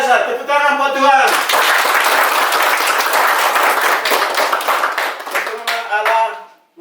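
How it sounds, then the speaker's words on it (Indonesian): A church congregation bursts into loud, close applause, a dense burst of hand clapping that swells and then tapers off, with a voice speaking briefly before it starts and again as it fades. "Tepuk tangan buat Tuhan."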